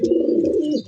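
A domestic pigeon, one of a breeding pair kept with eggs, gives a single short, soft coo that is close and clear, with no talk over it.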